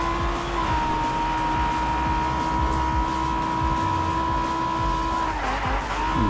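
A race car in Fortnite Rocket Racing accelerates with a loud, steady engine drone held at a constant pitch, dipping and wavering near the end as the car turns, with no talk over it.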